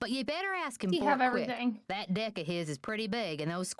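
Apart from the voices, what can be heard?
No everyday noise stands out behind the speech.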